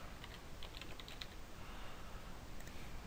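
Typing on a computer keyboard during Java programming in Eclipse, soft scattered key clicks in a quick irregular run, faint against a low steady background hiss.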